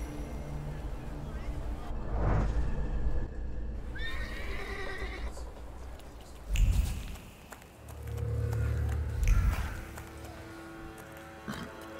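A horse in the video game The Thaumaturge gives a clear, rising whinny near the middle of the clip, with hoof clip-clop and ambient game sounds around it.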